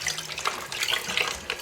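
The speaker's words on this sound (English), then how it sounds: "So I'm going to pour this, and this is completely cooled down. I'm going to pour this over it." Cooled brine pours steadily from a container over a whole chicken in a kitchen, a continuous close splashing and trickling of liquid with no talking.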